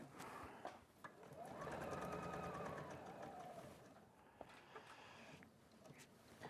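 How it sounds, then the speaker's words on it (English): A sewing machine stitching fabric craft pieces, a steady fast mechanical whir that runs for several seconds and then slows and stops, close by but low in level. "So I'm just sewing them now."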